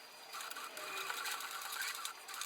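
Sewing machine stitching slowly through bulky pleated face mask fabric, a steady close whirring rattle running without pause for the whole stretch.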